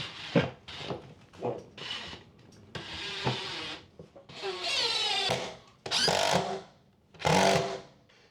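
Power driver sinking the main screw to hang an upper laundry-room cabinet on toggle bolts, in several close, loud whirring bursts separated by short pauses.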